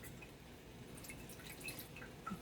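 Water drips from squeezed grated cassava, faint scattered drops and trickles falling over a quiet background, close by and irregular.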